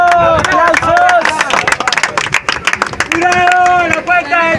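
Audience at a freestyle rap battle breaking into applause and cheers after a round, loud clapping with crowd noise and shouting voices over it.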